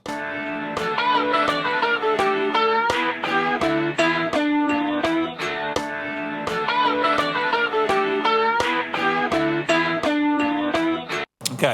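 Electric guitar plays lick 3 of a song's first solo, a fast, busy blues line of rapid picked notes with light distortion, loud and steady throughout, ending with a brief cutoff.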